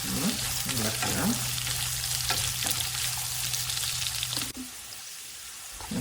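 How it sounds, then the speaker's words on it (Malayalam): Sliced onions sauté with dried red chillies in a pan for a Kerala chicken thoran, giving a steady sizzle with scattered stirring scrapes. The sizzle drops lower and quieter near the end. "സവാള ഇട്ട് ചെറുതായിട്ട് നമ്മൾ ഇളക്കുക."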